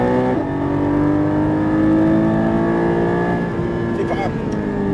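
A Porsche GT4 pulls hard through third gear on the Fontenay-le-Comte circuit, its engine note climbing steadily and loud close up, with a brief shift dip near the start.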